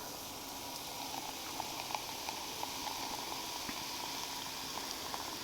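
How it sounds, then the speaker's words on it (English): Steady fizzing hiss of ale foaming as it pours into a hot pot, with faint crackling pops scattered throughout, continuous and close. "we'll just kind of try and pour this in without too much fizz"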